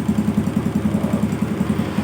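Suzuki Smash motorcycle engine idling after a tune-up, a steady close putter of regular exhaust pulses from the muffler, loud and even with no talk.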